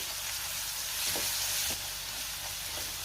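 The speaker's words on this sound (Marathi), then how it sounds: "आता आपल्याला त्यामध्ये आलं लसणाची पेस्ट घालायची आहे आणि तीसुद्धा मी एक मिनिटभर परतून घेणार आहे" Ginger-garlic paste sautéing with onions in hot oil gives a steady, close sizzle with faint stirring scrapes, continuous and fairly even with a slight swell midway.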